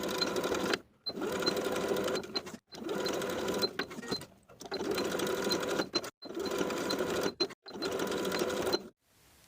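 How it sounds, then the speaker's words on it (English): A sewing machine runs in five or six steady bursts as it edge stitches belt loops onto summer shorts, its whirring motor and even needle rhythm close and clear, separated by short silent pauses. "Edge stitch the top edges of each belt loop in place."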